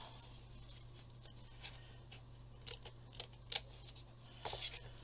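A few quiet, crisp snips at irregular intervals against faint room hum.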